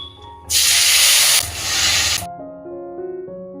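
Sliced onion dropped into hot oil with dry red chilli, bay leaf and whole garam masala, a loud bright sizzling hiss that bursts up, dips briefly and surges again before cutting off into quiet background music.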